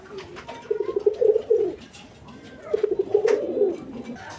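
Snake-eyed Gola pigeons give two rolling bursts of cooing close by, separated by a short pause, over quiet background noise.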